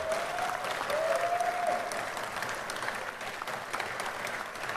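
Audience applause at a Philippine political speech, a steady, moderately distant patter of many hands clapping continuously with a faint tonal whistle early on.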